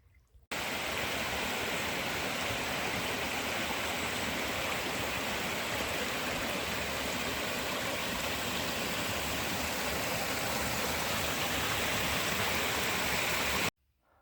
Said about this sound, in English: Got a cool little river.